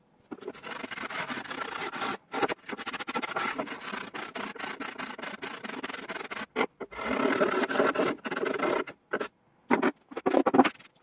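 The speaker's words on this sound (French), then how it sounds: "je vais venir gratter tout ça avec une brosse pour enlever la peinture qui s'écaille" A brush scrapes rust and flaking paint from a copper lamp in close, gritty rubbing strokes. The bursts are broken by brief pauses, with no voices.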